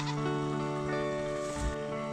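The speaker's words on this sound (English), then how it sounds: "A beautiful milk goat." A dairy milk goat bleats during hand milking into a stainless steel bucket. It gives a harmonic, drawn-out call that rises near the end, close and clear, over a steady background.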